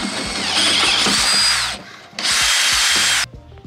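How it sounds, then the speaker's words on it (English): A power drill bores out a factory hole in a BMW E36 interior panel to take a rivet nut, whining loudly in two bursts with a short pause between, close up and alone. "Drill it out big enough to put a riv nut in it"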